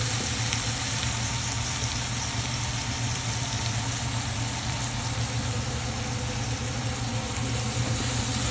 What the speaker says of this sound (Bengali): আর সহজে আপনার এই পেঁয়াজটা ভাজা হয়ে যায়